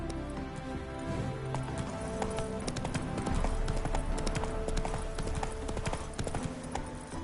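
Roach, the horse in The Witcher 3, galloping at a steady pace, hooves clip-clopping in a rapid, even rhythm under a continuous outdoor wash, loud and close throughout, with no talk.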